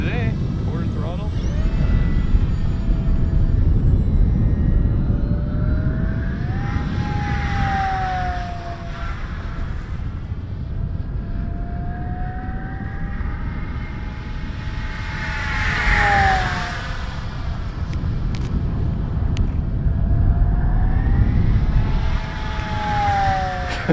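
An RC model airplane engine cruises at quarter throttle, a steady buzzing drone that rises and falls in pitch as the plane passes near and far, with people talking over it.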